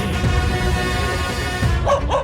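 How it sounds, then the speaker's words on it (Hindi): A dog barks in a comedy scene, a few quick, loud barks and yips near the end following a stretch of background music, with no speech over it. "अरे डॉगी भाई, काहे को भौंक रहे हो?"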